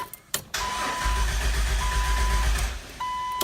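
A Jeep Wrangler TJ being started, the starter cranking and the engine catching into a steady idle, close by, with a warning chime beeping at intervals.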